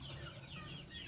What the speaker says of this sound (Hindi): ये अंडे हैं और इसके ऊपर मुर्गी बैठी हुई है बच्चे निकालने के लिए